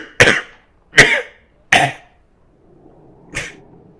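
A man coughs into a handkerchief in an audio drama, giving three sharp close coughs about a second apart, then a fainter fourth cough after a short quiet stretch of room noise.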